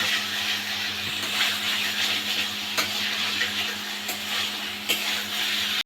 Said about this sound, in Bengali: এরপর আর একটু নেড়ে নিয়ে